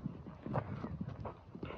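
Hooves clop on the ground in a steady walking rhythm, close by, with no one talking.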